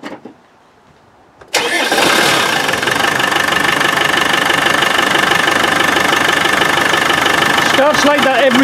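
A cold Land Rover 200Tdi diesel engine cranks and catches after a quiet start, then settles into a loud, steady, clattering idle that runs close and continuous to the end.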